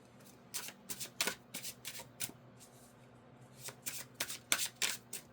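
Cards being shuffled at a tarot-style reading: a series of quick, crisp riffling bursts in irregular clusters, fairly close but soft, with short pauses between them and no talking.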